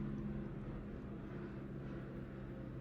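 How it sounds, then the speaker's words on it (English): A helicopter passing overhead makes a steady low rumbling drone that stays fairly constant and moderately loud throughout, with no talking over it. "there's a helicopter coming through"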